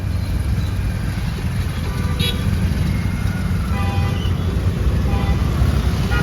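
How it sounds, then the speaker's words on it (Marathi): Traffic sits jammed on a road at Chakan, a dense, steady roar of engines and road noise with faint horn toots scattered through. "अरे भावांनो चाकण ट्रॅफिक लागलेलं आहे."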